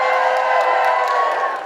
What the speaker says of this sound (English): Give me a cheer if you know what the Guilty Feminist is and you listen